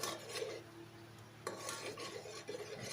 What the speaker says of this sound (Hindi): अब बस आपने इसको भूनना है।